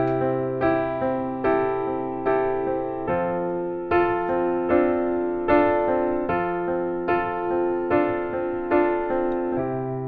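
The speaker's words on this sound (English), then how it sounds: "this one is just adding the 6th note of the chord" A chord with an added sixth note is struck again and again in a steady, even rhythm, each strike ringing out and decaying before the next, with no voices.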